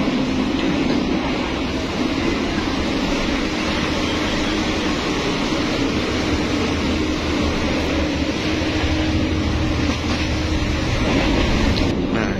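Steady, loud interior rumble inside the Motis Utara passenger train in Indonesia, with a continuous low drone of wheels and carriage noise throughout and no break in the sound.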